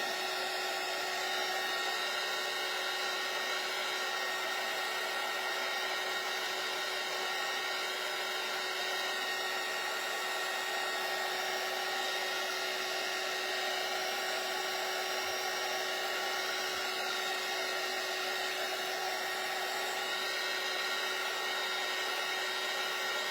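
Hair dryer blowing over pieces from a farmhouse Christmas tree craft kit, a steady close whirring hum running unbroken for over twenty seconds with no talk.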